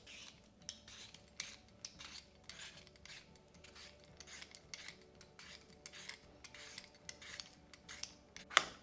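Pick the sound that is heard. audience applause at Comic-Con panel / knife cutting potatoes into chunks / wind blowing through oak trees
knife cutting potatoes into chunks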